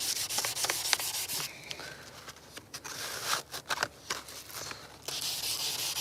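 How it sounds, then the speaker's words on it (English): Palm sander working on a Vauxhall Corsa headlight, giving close, continuous gritty rubbing with uneven surges and brief scuffs as the pad moves across the plastic. "Palm sander is going to be much easier to use"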